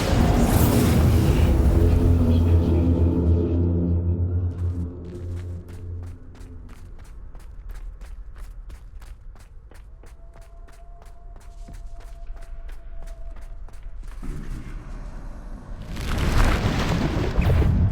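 Heavy booming blasts from the Bombarda spell in Hogwarts Legacy roar loudly at the start and again near the end. In the quieter stretch between them, a fast run of light ticking steps and a faint tone can be heard.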